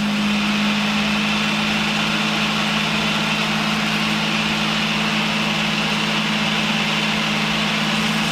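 A P-51 Mustang warbird's piston engine runs with a steady, loud, droning hum and constant vibration, unbroken and close for the whole stretch.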